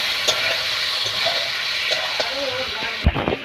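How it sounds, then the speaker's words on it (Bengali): Potatoes and Bombay duck fish sautéing in a pan, a close, steady sizzle with spatula scrapes and stirring, and a few louder knocks and clatters near the end. "এবারে আলু আর লোটে মাছগুলোকে ভালো করে কষিয়ে নিতে হবে।"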